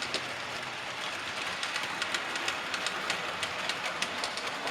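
A model S15 locomotive runs over ballasted track in a loft layout, a close, steady rolling rumble marked by regular clicking as wheels cross rail joints.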